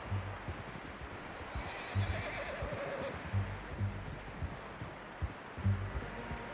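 A horse neighs and whinnies several times in Red Dead Redemption 2, with soft clip-clop hooves and rustling in between, fairly close, no voices over it.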